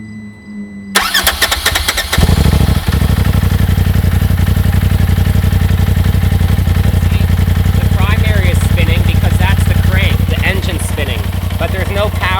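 A UTV engine cranks and catches at about the second mark, then settles into a steady, loud mechanical running hum with whirring CVT belt and clutch noise, close by.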